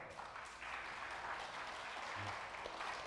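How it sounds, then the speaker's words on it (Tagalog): Steady applause from a church congregation, continuous and fairly even throughout, with no voices standing out. "tuloy natin palakpak sa Lord"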